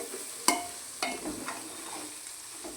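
Bagara rice frying in a pan as a spoon stirs it: a soft continuous sizzle broken by sharp scraping strokes against the pan roughly every half second, close and fairly quiet, with no talking.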